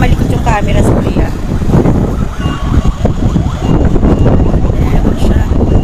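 Strong wind buffets the microphone with a loud, continuous roar at a fire scene in San Dionisio, Parañaque City, while a voice talks underneath throughout.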